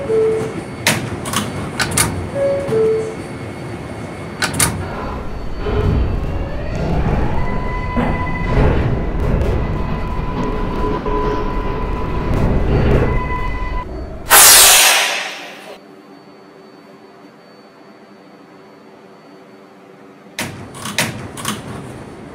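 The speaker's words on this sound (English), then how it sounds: "Stand clear of the closing doors" Subway train doors slide shut with a rumbling mechanical rush, ending in a sharp loud thud, followed by a quiet hum and then more clatter from the train.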